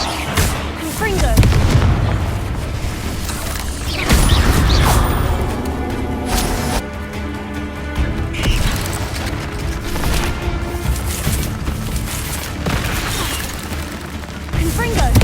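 Repeated Confringo spell explosions in the video game Hogwarts Legacy, a string of booming blasts and bursts over a steady game soundtrack, loud and close, with a voice talking over the action.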